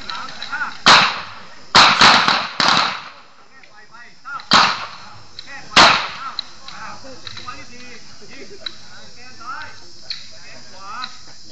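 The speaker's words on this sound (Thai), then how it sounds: "ยิงจบเคลียร์ปืน" Glock 19 pistol fired at a police firing range during a malfunction-clearing drill: a quick run of sharp, loud shots with single reports following at intervals, while people talk in the background.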